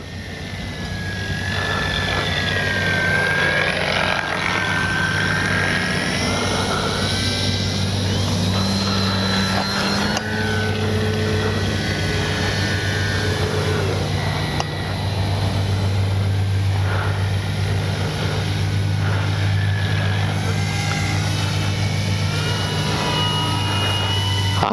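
Steady buzzing drone of a Durafly Slowpoke radio-controlled model airplane engine, rising and falling in pitch as it flies around, continuous and fairly close.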